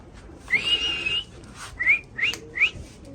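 Teddy pigeons, an Omani pair, released indoors: a series of short, bright, rising chirps and whistle-like calls, one longer trill, then three quick separate notes, close and fairly faint, with no talk.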